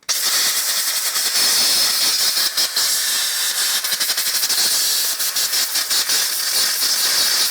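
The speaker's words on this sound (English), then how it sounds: "So I'm just going to give this caliper a blowout first though. Get rid of any crap that's built up in there." Compressed air blasting a brake caliper clean on a 2014 Harley-Davidson Electra Glide motorcycle, a loud close continuous hiss with slight flutter lasting several seconds.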